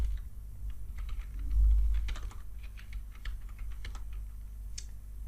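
Close, quick keystrokes rattle on a computer keyboard during game programming work, an uneven run of light clicks over a low steady hum.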